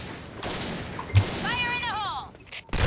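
Gunfire in the online shooter Point Blank cracks in short bursts of shots, with whooshing in-game effects and a rising electronic chirp between them, ending in a loud close blast.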